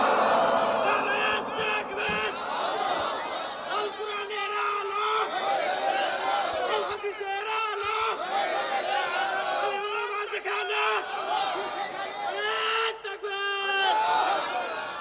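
Large crowd at an Islamic religious gathering (mahfil) in Chapainawabganj raising loud, overlapping shouts of takbir, in repeated swelling bursts of massed voices over a constant hubbub.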